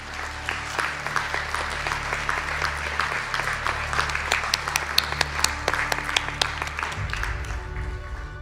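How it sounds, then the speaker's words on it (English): An audience at a spring college conferring ceremony in Donegal gives the standing graduates a round of applause. The clapping is dense and sustained, with a low rumble near the end. "Could I ask all our graduates to stand for a round of applause"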